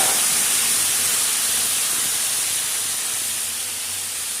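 Tomatoes hit hot oil in a kadai with panch phoron, bay leaves and chillies, giving a loud, close, steady sizzling hiss that eases slightly toward the end.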